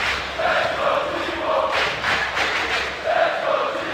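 French fans in the crowd at a Starladder Berlin 2019 CS:GO quarterfinal between Team Vitality and AVANGAR cheer and chant in rising, rhythmic swells of massed voices from an arena audience.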